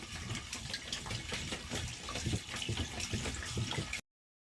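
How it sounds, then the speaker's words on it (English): Water from a spring gushes steadily down a gravity-fed water line, a continuous close rushing and gurgling flow with no voices. "we got a couple gallons of water coming down the line here"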